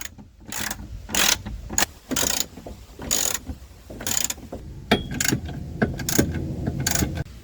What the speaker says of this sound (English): I'm going to loosen all the bolts for the bushings and tighten them again in this position.